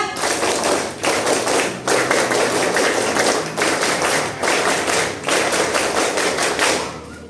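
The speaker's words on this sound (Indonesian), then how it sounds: "Dua kali tepuk Pramuka." Scouts at a Pramuka campfire ceremony clap in unison, a dense run of rhythmic group claps in repeated bursts separated by short pauses, loud and close with no talking.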